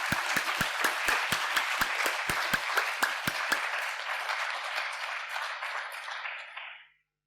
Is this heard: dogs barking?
no